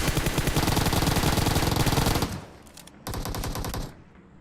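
An SMG in PUBG Mobile fires at close range: a long, rapid-fire burst with tightly spaced shots, a brief pause, then a second shorter burst that cuts off.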